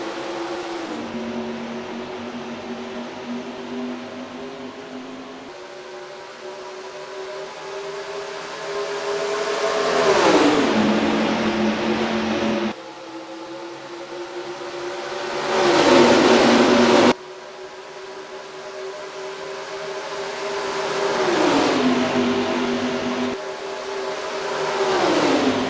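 Race car engines at the start of a NASCAR Racing 2003 game race at Las Vegas: a pack of V8 cars droning and revving, with rising and falling pitch as cars accelerate and shift, loud and continuous without talk.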